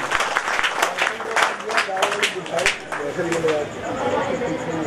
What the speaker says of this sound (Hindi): बहुत सारी तालियां इनके लिए जावेद शम्स भाई की